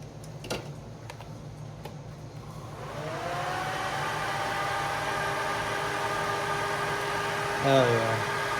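An Eclipse GSX radiator cooling fan kicks on about three seconds in, a steady mid-pitched whir rising from a quieter engine bay and running continuously to the end, with a short louder bump near the close.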